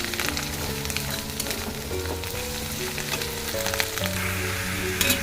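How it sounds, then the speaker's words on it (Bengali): About a kilogram of chicken fries in a pan with garlic, sizzling loudly and steadily at close range, with stirring scrapes and clinks over it. "এখন যে চিকেনটা দিয়ে দিয়েছি এখানে এবার তুমি কষাতে থাকবে"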